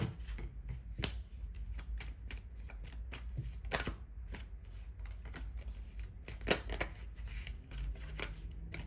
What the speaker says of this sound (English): let me just go ahead and shuffle